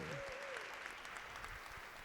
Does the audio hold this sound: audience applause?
yes